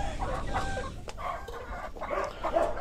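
Rooster alone in a coop, clucking and calling in a run of short bursts close by over a steady low background hum.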